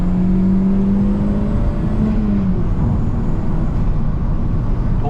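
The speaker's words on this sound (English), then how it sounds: "Second gear pull." A 2002 Audi TT ALMS Edition accelerates hard in second gear on an open road, its engine note droning steadily as revs build and a rising tone sweeps upward, heard from inside the car.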